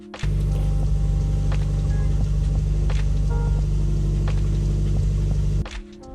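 Right rear wheel bearing of a Subaru STI, wheel off, heard through a mechanic's stethoscope: a steady close-up hum and rumble with a scratchy, grinding texture and occasional faint clicks, running continuously before cutting off near the end.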